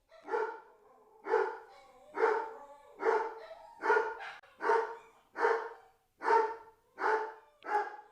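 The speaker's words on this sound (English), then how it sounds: "they could hear dogs barking in the field, wild dogs and coyotes" Dogs barking out in a field, wild dogs and coyotes among them: about ten evenly spaced, full barks in a steady rhythm, each one distinct against an otherwise quiet background.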